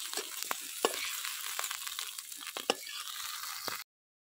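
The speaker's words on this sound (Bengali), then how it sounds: "বিনস কড়াইশুঁটি আমার একসাথে ভাজা হয়ে গেছে।" Green beans and peas sizzling together in a wok, a continuous hiss broken by several spatula stirs and scrapes, close up, ending abruptly in silence.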